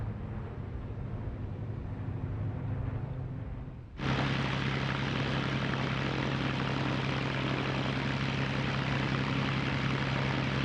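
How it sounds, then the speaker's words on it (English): A restored Supermarine Spitfire fighter's propeller engine drones steadily, then jumps abruptly to a loud, sustained roar with a strong low hum, as if close by, with no voices. "This restored Spitfire carries the JEJ marking, immortalized by the great British ace, Johnny Johnson."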